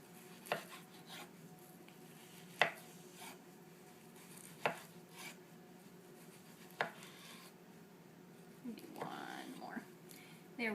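A kitchen knife slices an ingredient diagonally on a cutting board during Cuban arroz con pollo preparation, giving soft, sparse chopping taps spaced a second or two apart under quiet background noise.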